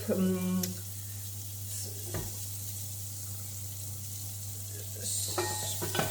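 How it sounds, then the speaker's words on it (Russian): Smoked speck bacon frying in a pot, a soft steady sizzle under a constant low electrical hum, with a couple of brief clinks and knocks, close but fairly quiet. "Обжариваем."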